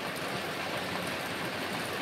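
Heavy, storm-like rain pours down at night in a steady, dense hiss that stays even and close from start to end, with no voices.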